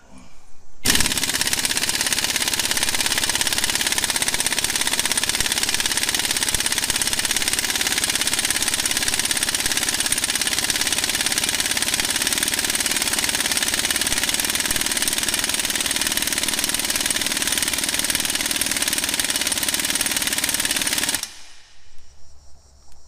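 A Harbor Freight impact gun hammers at a stuck nut in one long, loud, continuous rattling burst lasting about twenty seconds before cutting off.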